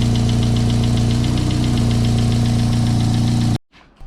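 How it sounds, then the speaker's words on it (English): A Mazda Miata engine idles steadily with a rapid, even lifter tick ticking over the drone, loud and close, then cuts off abruptly near the end. "Have a little bit of a lifter tick, it sounds like right now"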